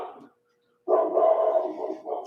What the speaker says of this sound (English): There's the doggy. Can you hear that?